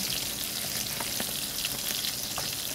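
Bisugo fish fries in hot oil, a steady close sizzle with dense popping and crackling that continues without a break, no voices.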